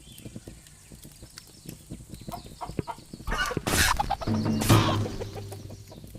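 A chicken in the VR game A Township Tale clucks repeatedly over steady clattering game sounds, growing louder and busier toward the end, with no one speaking.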